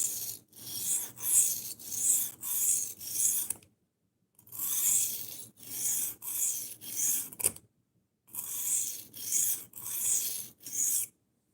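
A 9CR steel knife is drawn across a 400 grit sharpening stone in rhythmic rasping strokes, about four per burst across three bursts, separated by short silences.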